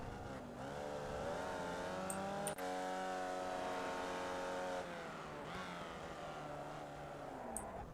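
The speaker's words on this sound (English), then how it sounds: "he shifted down and revved it up" Formula Vee race car in the iRacing video game at Oulton Park, engine revving steadily then dropping as it downshifts and revs up again, loud and continuous with no talk.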